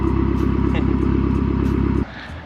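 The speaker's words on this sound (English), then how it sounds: "Just listen to that thing, that MZR engine." Mazda Speed 3 with an MZR engine idling loud and close, a deep pulsing rumble that drops abruptly to a quieter murmur near the end.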